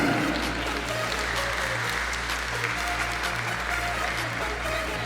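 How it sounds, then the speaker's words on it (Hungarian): Loud, sustained applause from the crowd at a Hell Boxing Kings amateur boxing qualifier, filling the arena for the boxers over a steady low hum that pulses in a regular rhythm. "Hadd kérjek tőletek egy óriási tapsot valamennyi ökölvívónak, aki szorítóba lép a Hell Boxing Kings-en."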